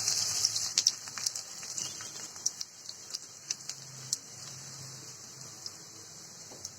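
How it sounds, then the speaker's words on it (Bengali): Chopped onions sizzle and crackle in hot oil in a frying pan on a stove, with a steady hiss and irregular small pops throughout, fairly faint and with no talking. "পেঁয়াজটা একটু ভেজে নিব।"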